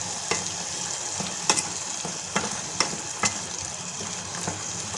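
Nigella seeds sizzle in hot oil for a chutney, a steady crackling hiss broken by a few sharp spoon clicks and stirring taps, close and fairly quiet with no talking.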